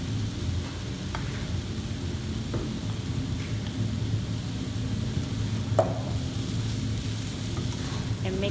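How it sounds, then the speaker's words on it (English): Radish and vegetarian ham stir-fry in a pan, giving a steady, close sizzle with a few faint scrapes of the spatula and no talking. "After we cook the radish for a while, we're going to put the"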